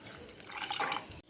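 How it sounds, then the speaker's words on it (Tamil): A brief gush of water pouring onto rice in a container, swelling then cutting off abruptly, close and fairly quiet. "அரிசியில் தண்ணி ஊற்றி ஊற வச்சுக்கலாம்."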